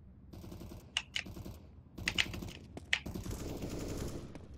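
Rapid bursts of gunfire crackle in Counter-Strike: Global Offensive on the Cache map, several short volleys spaced across quiet moments, fairly distant and thin.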